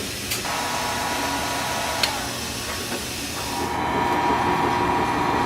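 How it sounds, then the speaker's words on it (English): A heat gun blows a continuous airy hiss, softening adhesive on the headliner pillars of a Mazda RX3. The hiss holds steady and close, with a few faint clicks and a slight change in tone near the end. "This one might need a little heat gun."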